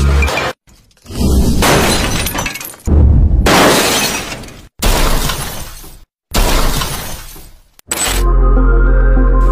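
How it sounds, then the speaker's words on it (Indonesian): A car dropped from a height smashes on impact in a crash test of European cars, loud repeated crunching bursts with glass shattering, separated by short silences, then a final sustained crash with a low rumble. "Mereka memutuskan untuk melihat apa yang akan terjadi jika kedua mobil ini dijatuhkan dari ketinggian"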